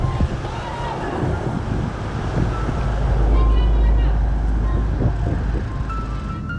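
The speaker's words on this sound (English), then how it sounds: "just boarding the ferry to Fraser Island" A ferry crossing to Fraser Island rumbles low and steady beneath gusting wind noise, with a swell of louder engine throb midway through.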